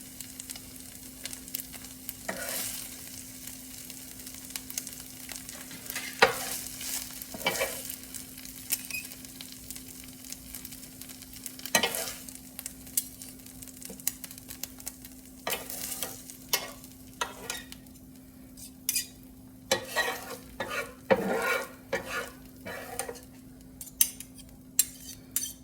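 A BBQ chicken quesadilla sizzles in a pan while a utensil stirs and scrapes against the metal in irregular clatters, with a steady low hum beneath and no talking.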